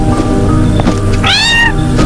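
A stray cat meows once, a loud, close, drawn-out cry rising over background noise and a brief voice.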